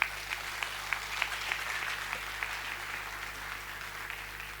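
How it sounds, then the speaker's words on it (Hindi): Faint, distant applause from an audience at a first-anniversary industry event in Patna, a steady patter of scattered claps under a constant background hum. "क्या इनके सम्मान में एक जोरदार तालियां नहीं होनी चाहिए?"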